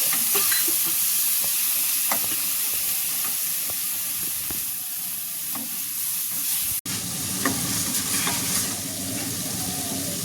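Turmeric, coriander and cumin are sautéed with ginger, garlic and onion paste in a pan, giving a continuous close sizzle with repeated spatula scrapes and taps. A brief dropout comes midway, followed by stronger frying and no speech.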